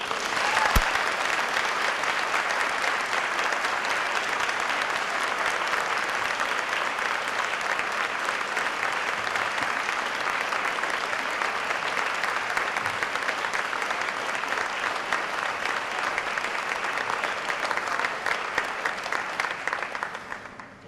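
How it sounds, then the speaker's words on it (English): A large audience of faculty and staff gives sustained applause to welcome new college students, a dense, steady wash of clapping that holds evenly for about twenty seconds before tapering at the end. "Let me ask the faculty and staff now to welcome our new students with a round of applause."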